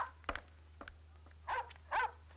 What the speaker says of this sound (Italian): il suo cane smetterà di abbaiare